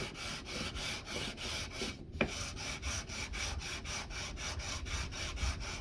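Sandpaper rubbing steadily back and forth over the metal frets of a modded Les Paul copy guitar, a continuous close rasping scrape with a brief pause and one sharp tap midway.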